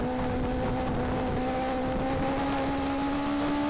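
Legends race cars race at Langley Speedway, a steady loud engine drone with sustained tonal whine that holds throughout as the cars run hard together on the track.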